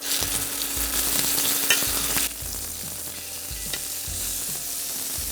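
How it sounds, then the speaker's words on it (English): A steak sears loudly in a hot pan just after flipping, giving a strong, continuous sizzle with scraping and stirring knocks, close up and without talk. "we're gonna flip the steak over"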